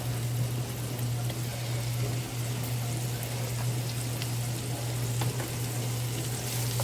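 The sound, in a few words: garlic cooking in a pan on medium heat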